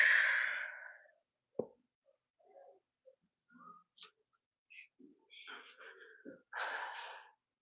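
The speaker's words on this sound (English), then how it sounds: "Deep breaths." Deep breaths during an abs workout, a strong breathy exhale followed by scattered faint gasps and puffs, then another heavy breath near the end, all close and without talk.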